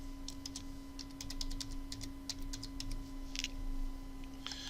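Quick bursts of keystrokes on a computer keyboard while entering a label in a database report, close and fairly quiet, with brief pauses between runs of taps over a steady electrical hum.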